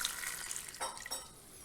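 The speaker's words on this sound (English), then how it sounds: "I'm just going to pour this in here." Starter tea poured for home brew kombucha, a close trickling stream of liquid with a couple of brief splashing surges, fairly quiet and with no talking.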